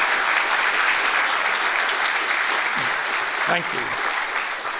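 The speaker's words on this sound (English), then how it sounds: "let's give our great delegation a round of applause for their great work" Audience at a ribbon-cutting ceremony for a university applied engineering building applauds in a dense, sustained burst of clapping that tapers slightly at the end, with a brief spoken thanks heard over it.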